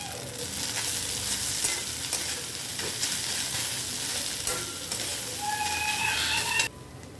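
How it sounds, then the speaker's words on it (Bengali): Boiled fish stirred into lightly fried onions in a pan, a loud steady sizzle with scraping stir strokes and a short high squeal near the end, then a sudden quieter tail, no talk. "এবার আমি সেদ্ধ করে রাখা মাছটা এর মধ্যে দিয়ে দেবো।"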